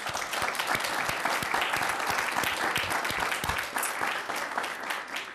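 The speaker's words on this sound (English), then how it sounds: "I'd like to ask our audience for a round of applause for everyone here tonight." An audience at a 2018 Richmond City Council candidates forum hosted by the League of Women Voters applauds the council candidates, a sustained, even patter of many hands clapping at moderate level with no talk over it.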